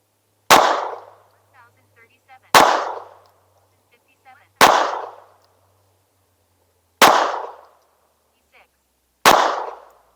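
Five sharp, loud unsuppressed .22LR rifle shots from a Rex Selentium MG22 firing Winchester 36-grain supersonic ammunition, spaced about two seconds apart, each with a short decaying echo, faint handling noises between.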